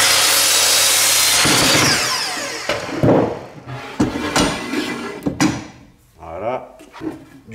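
A hand saw cuts through a wooden piece to length for a Scandinavian-style trestle base, starting with steady rasping broadband strokes that break into several short, uneven strokes and knocks near the end, with talk over part of it.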